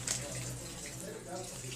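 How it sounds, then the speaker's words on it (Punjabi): A tap runs steadily into a vessel while dal lentils are washed in a home kitchen, a soft continuous splashing rush close by with a low hum beneath. "ਦਾਲ ਹੁਣ ਧੋ ਕੇ ਇਹਨੂੰ ਕੀ ਕਰੋਗੇ"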